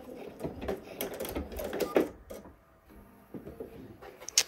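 A sewing machine backstitches a seam while a zipper is sewn into a Canton garment front, giving a brief run of quick, close mechanical stitching bursts with a pause before a final clack.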